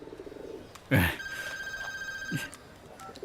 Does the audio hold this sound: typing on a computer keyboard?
no